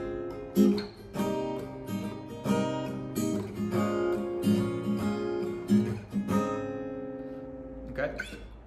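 Guitar chords of a song's chord progression, strummed in a relaxed, low-key way: sustained ringing chords with several strum attacks, fading out near the end, with no talking.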